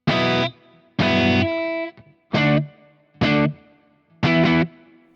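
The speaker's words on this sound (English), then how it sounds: "A little bit of ambient reverb on there" An electric guitar played through a Kemper Profiler set as a clean amp with low ambient reverb sounds five separate chords, each ringing briefly and then cut off, leaving short shimmering tails between the strums.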